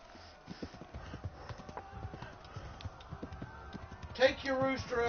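Horse hooves clip-clopping at a walk in the video game Kingdom Come: Deliverance, a steady soft rhythm beneath someone talking, followed by a short whinny near the end.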